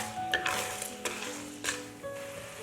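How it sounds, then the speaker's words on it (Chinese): A spatula or spoon scrapes and stirs around a wok where rock sugar melts with water and a spoonful of oil over low heat, giving soft clinks and scraping strokes over a faint steady sizzle. "用铲子或者勺子都可以，不断的要搅拌"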